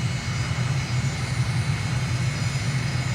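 Aircraft engine droning steadily during a landing approach in a flight simulator over Ankara, Turkey at sunset, a continuous loud hum with a low pulsing throb and no other sounds.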